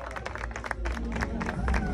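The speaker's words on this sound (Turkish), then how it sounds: "Herkes için alkış istiyorum." Crowd applause and cheering for athletes on stage, including five-time champion Murat Muslu, steady and fairly loud with dense clapping under music and voices.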